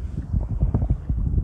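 Gusty wind buffets the microphone while out fishing on a boat off Denmark, with low rumbling surges and flutters, loud and close, with no talking.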